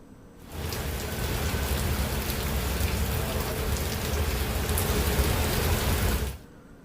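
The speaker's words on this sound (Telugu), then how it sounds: "ఒకవైపు వడగండ్లతో కూడిన వర్షం కురుస్తుంటే" Heavy rain with hail pours down in a steady, dense roar over Hyderabad, starting abruptly and cutting off after several seconds, with no voices.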